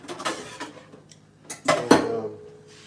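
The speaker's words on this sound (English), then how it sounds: "And just keep stirring it." Spoon scraping and clinking in a pot of ribeye gravy being stirred on low heat, a few close metallic knocks and scrapes with a brief louder clatter near the end.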